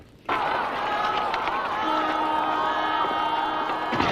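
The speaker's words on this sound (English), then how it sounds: "There's no way through the crowd" A large crowd of Filipinos shouting and cheering in a city street during the 1986 revolution, a dense, steady roar of many voices that swells in suddenly and holds loud throughout.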